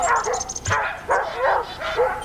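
Sled dogs in winter at a Prince Albert, Saskatchewan kennel bark and yip in a quick series of close, excited calls, with a brief whimpering note mixed in.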